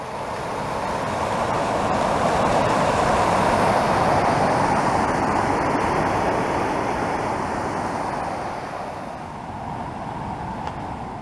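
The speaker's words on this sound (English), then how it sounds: "Check out this waterfall." A waterfall on the Great Divide Trail near Cataract Pass, in the White Goat Wilderness, gives a loud, steady rushing roar that swells slightly and then eases toward the end, with no talk over it.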